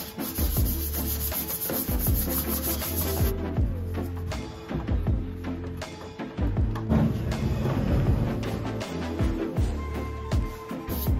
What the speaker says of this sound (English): Now I am just scuff sanding all over the entire piece.